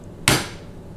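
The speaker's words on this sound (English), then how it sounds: "Then I can just take a hammer" A single sharp hammer strike tapping a Lamello connector into wood, close and loud, ringing out briefly before fading.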